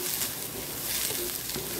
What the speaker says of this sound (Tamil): நல்லா அந்த கலர் சேஞ்ச் ஆகிற அளவுக்கு வதக்கிக்கோங்க